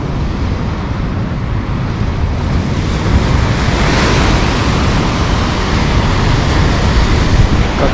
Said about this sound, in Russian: Как отошел сразу, волны красивые стали.